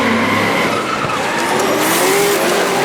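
Drift car at Baypark Stadium skidding with a sustained tire squeal over loud engine roar, continuous and close for the whole stretch, no voices.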